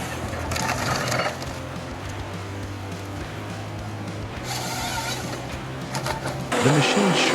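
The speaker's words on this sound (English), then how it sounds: "The machine's sharp blades glide along the trunk, swiftly removing branches in seconds." A tree delimbing machine with sharp blades stripping branches from a trunk, giving bursts of crunching, splintering wood noise over a steady mechanical hum, loud and close, with the cracking louder near the end.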